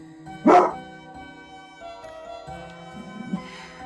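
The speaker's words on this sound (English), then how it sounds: "Exclamation point bark whenever you hear Kira barking" A single short bark from a dog in the Deltarune video game stands out over quiet background music, followed by softer game tones.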